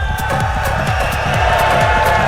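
A large arena crowd at the RLCS 2025 Birmingham Grand Finals, a Rocket League esports event, roars and cheers continuously in support of a player, a dense sustained wall of voices with rhythmic pulses throughout.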